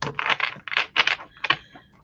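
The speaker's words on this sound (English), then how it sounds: "The deck is so big, I have a hard time shuffling." A large deck of cards being shuffled by hand, a few quick riffling bursts of papery clicks and flutters, close and fairly quiet, with short pauses between them.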